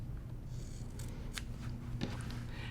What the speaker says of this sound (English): I'm going to clip the excess fabric off the corners.